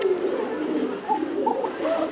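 Lahori pigeons cooing in a fancy pigeon collection, several soft, throaty coos rising and overlapping in a steady low murmur, close by with faint background voices.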